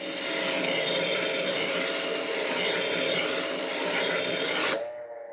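A knife sharpening machine at reduced speed takes the burr off a blade edge, giving a steady, loud rasping grind that runs unbroken for several seconds before cutting off abruptly, leaving only a faint motor hum.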